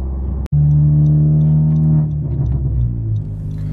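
A 10th gen Honda Civic Si revs loudly up close after a sharp click, its engine drone holding steady, then dropping in pitch as a gear change comes through and the engine settles back into a lower rumble.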